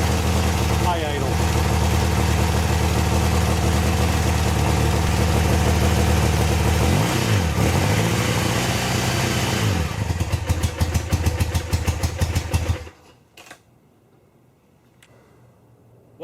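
A motorcycle engine runs at a steady high idle after an EnDuraLast II charging system and alternator install, loud and close with a constant throbbing drone for about thirteen seconds before cutting off abruptly.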